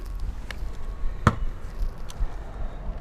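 A basketball dribbled on a court gives one sharp, close thump midway, with a few fainter bounces scattered around it over a steady background hum.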